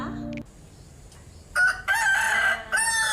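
A loud, close rooster crow, drawn out in rising and falling segments, after a brief clucking sound.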